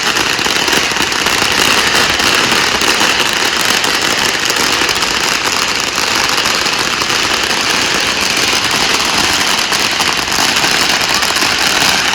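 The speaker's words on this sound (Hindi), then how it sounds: "पटाखे छुड़ाए जाते हैं" Firecrackers going off to welcome a wedding procession's cars in Kabul, a dense continuous crackle over engine rumble lasting throughout, loud and close with no clear gaps.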